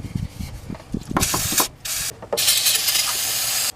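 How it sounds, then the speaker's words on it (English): Aerosol cleaner hisses onto power steering lines in a car engine bay, two long loud sprays after some light handling and rubbing noises. "So spray it down, clean it up with a rag"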